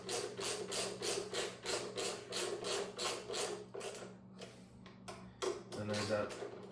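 A hand ratchet tightening bolts on a 2000 Honda Shadow motorcycle, a close, rhythmic series of rasping clicks in regular strokes, pausing briefly before a few final clicks, with a low steady hum underneath.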